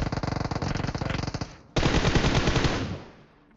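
Rapid automatic gunfire in a mobile video game in a steady burst, a brief pause, then a denser, louder volley that trails off.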